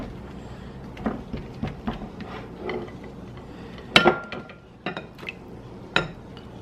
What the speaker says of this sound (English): Just kind of stir it in there.